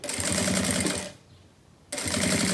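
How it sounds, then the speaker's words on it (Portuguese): A sewing machine stitches a silicone beach bag with a steady, rapid mechanical whir, stops for under a second, then starts again at the same fast, even pace, close up with no talking. "eu vou costurando aqui, ó. Só pra ficar um acabamento mais bonito por dentro"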